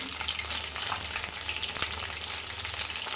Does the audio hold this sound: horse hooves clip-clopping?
no